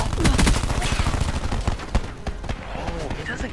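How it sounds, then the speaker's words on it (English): Rapid bursts of gunfire from the Call of Duty Black Ops video game crackle densely and loudly throughout, with a voice talking over the shooting. "I heard you shooting"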